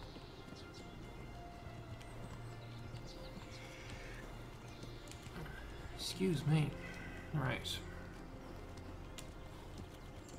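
A horse clip-clopping along a path in Kingdom Come Deliverance, steady hoofbeats under a continuous ambient bed, with someone briefly talking and a snort or whinny midway.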